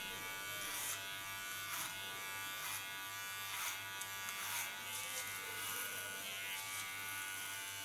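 An electric hair clipper cutting a bob, guided over a comb, gives a steady close buzzing hum with rhythmic soft surges as it passes through the hair, fairly quiet and without talk.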